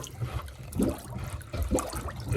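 A bathroom sink plunger forces water down a drain and pulls it back, giving two wet, gurgling sloshes about a second apart over a low watery background, with no talking.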